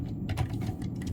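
Quick, close clicks of typing on a computer keyboard, a short burst of several keystrokes in rapid succession.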